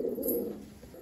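Malwai pigeons coo in a low, steady murmur, close and fairly loud, with a short sharp sound above it early on.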